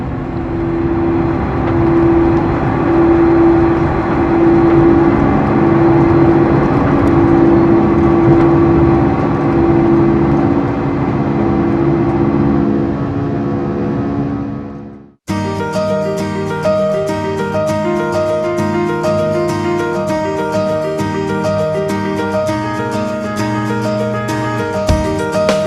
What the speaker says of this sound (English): the next noise you'll hear will be them retracting back into the wing